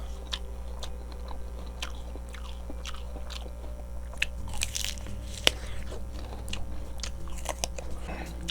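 Someone eats a large, crunchy apple jujube up close, giving repeated crisp bites and moist chewing over a steady low hum from the room.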